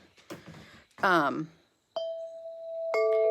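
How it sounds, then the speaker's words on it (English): Wind chimes ring out in clear, sustained metallic tones after a spoken voice, first as one long ringing note and then a brighter cluster of overlapping chime tones that hang and fade in a quiet room. "Just like these wind chimes right here."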